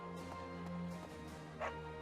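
A dog in Fire Emblem: Three Houses gives a few quick, yappy barks and a whimpering yip over a steady hum of game music, with faint voice sounds mixed in.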